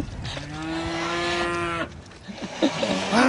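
A bull in a barnyard calls out to the cows with a long, loud, drawn-out moo lasting over a second. Shorter grunting and snorting cattle noises follow close by.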